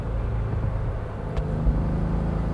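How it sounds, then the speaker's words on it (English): A Porsche 356 Speedster engine floored at full throttle, a steady low, rumbling drone heard close and continuous from inside the car, with no talk over it. "The other funny thing about this car is when you floor it"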